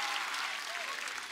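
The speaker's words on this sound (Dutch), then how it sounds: "Geef hem een grote applaus" A crowd of Ajax fans at a squad presentation gives player Davy Klaassen a brief burst of steady, dense applause that holds at an even level throughout.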